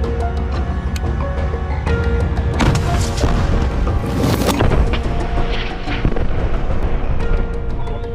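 Combat near the eastern cemetery in Rafah, with an anti-tank rocket fired at an Israeli armoured personnel carrier: dense, rumbling booms and cracking blasts over a continuous loud roar, a few sharper impacts standing out, no speech.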